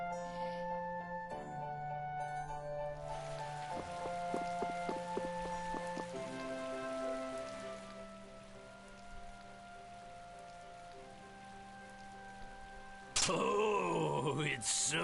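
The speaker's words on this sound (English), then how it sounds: "It's raining." Rain falls in the video game Tales of Vesperia, a steady wash layered under game music, with a louder burst of effects near the end.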